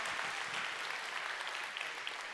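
A church congregation applauding after news of a baptism, a brief, fairly faint burst of steady clapping from a crowd in a large hall.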